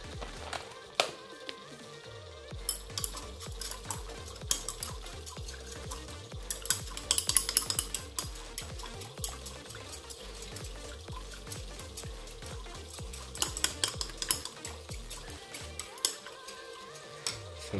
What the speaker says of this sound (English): But this one I will stir with a hand